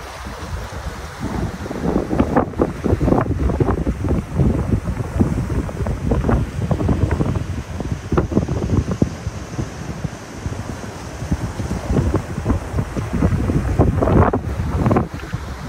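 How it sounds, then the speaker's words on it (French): Ocean waves wash and break continuously, a dense roaring surf with gusts of wind buffeting the microphone, loud and steady throughout. "entendre la mer se déferler comme ça, c'est un véritable plaisir"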